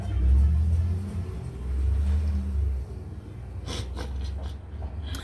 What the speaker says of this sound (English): that's the FedEx truck